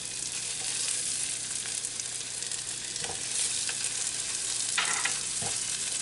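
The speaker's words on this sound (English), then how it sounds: "And then we're going to add our onions. And we're going to add our garlic ginger paste." Chopped onions and garlic ginger paste frying in melted butter over medium heat for butter chicken, a loud, steady, close sizzle with a few soft stirring scrapes and no voices.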